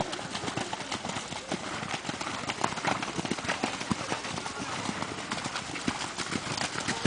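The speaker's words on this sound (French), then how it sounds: "Le cheval il s'est cabré, t'as pas vu?" Horse hooves clip-clop in a quick, uneven rhythm on hard ground, close and steady throughout, during a moment when the horse rears, with no clear talk over it.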